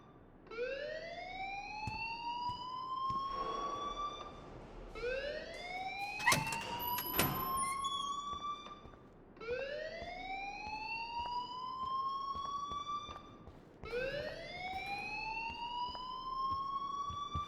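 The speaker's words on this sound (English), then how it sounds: "please turn off that alarm since that's your job" A loud, rising alarm wail from the Life is Strange Remastered video game sweeps upward four times in a steady cycle, with each sweep lasting a few seconds and no voices over it.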